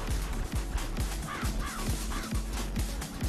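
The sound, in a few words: crows cawing in the video game Tokyo Jungle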